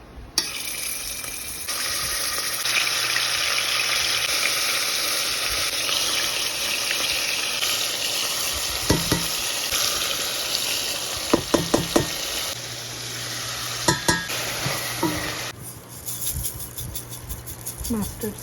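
Beef sprinkled with salt frying in a pan for a beef vindaloo, a steady sizzle throughout with scattered clinks and stirring taps, and a voice speaking over it at times.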